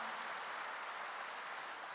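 Applause from a congregation during a Korean church's Wednesday worship service, a steady dense wash of clapping held for a couple of seconds with no voices over it.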